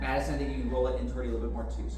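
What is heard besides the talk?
No everyday noises stand out.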